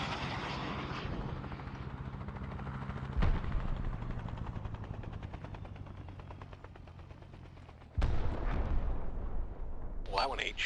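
Artillery fires in the military game Arma amid a low helicopter or aircraft drone, with two heavy booming blasts several seconds apart, the second louder and trailing off, and a voice speaking briefly at the end.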